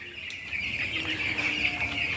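Broiler chickens on a farm cluck in a short, moderately loud burst of overlapping calls over a low background hum.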